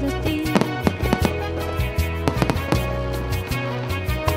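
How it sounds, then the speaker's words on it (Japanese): Fireworks at a seaside festival on a beach, including underwater shells launched from the sea surface, crack and boom in a rapid, irregular barrage of loud bursts, some overlapping, with no pause. "クジャクが羽を広げたように海面から打ち上がる水中クジャクなど鮮やかな花火が打ち上げられました。"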